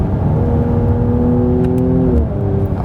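A Mercedes C43 AMG engine in sport mode hums steadily with a rising, sustained drone, held loud and close for the whole span, with a slight shift in pitch near the end.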